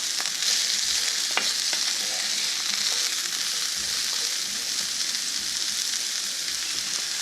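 Vegetables sauté in a salted pan with a steady, close crackling sizzle that holds from start to finish, broken now and then by small pops and brief stirring noises, with no talk.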